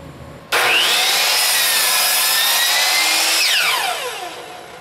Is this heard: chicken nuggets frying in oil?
no